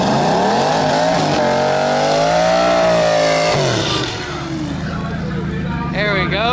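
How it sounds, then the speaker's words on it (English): A drag race car spins its rear tires in a burnout, the engine screaming through rising and falling revs before cutting off, followed by a quieter idle. "Nice clean burnout"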